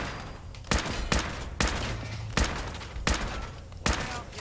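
Gunshots ring out in combat in the video game Fallout 4, six sharp, loud reports at roughly even intervals with a low rumble between them.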